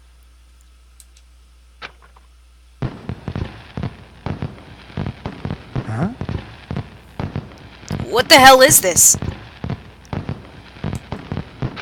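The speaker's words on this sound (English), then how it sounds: "Looks like they're fireworks." Fireworks go off inside a factory in the Danganronpa 2 video game, a rapid run of crackling pops and bursts with a whistling flare midway, under a man's speech.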